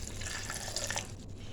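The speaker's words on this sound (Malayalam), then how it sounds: "ഇതിലേക്ക് നമുക്ക് ആവശ്യത്തിനുള്ള വെള്ളം ഒഴിച്ചു കൊടുക്കാം." Water poured into a mixer jar holding grated coconut for Kerala vattayappam, making a short, soft splashing and gurgling pour close by, with no speech.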